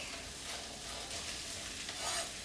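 Onions and garlic frying in a pan with sausage meat, a soft, steady crackling sizzle with light stirring, quiet and close with no voices.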